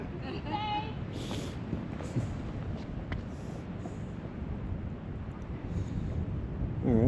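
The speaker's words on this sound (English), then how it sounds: "but there is a lot of wind" Strong gusting wind at Moki Dugway buffets the microphone with a constant loud roar that swells toward the end, with scattered bumps and faint background sounds mixed in.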